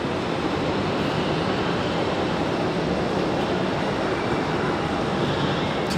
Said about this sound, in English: So here comes our Republic Airways from Pittsburgh.